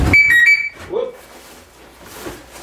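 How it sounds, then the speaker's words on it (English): A lawn mower's alarm system gives a loud, shrill electronic beep in a short burst up close, then stops, leaving faint background noise and a brief voice. "That's the alarm system on the mower."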